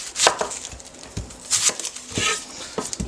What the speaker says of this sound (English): We're going to chop our onions.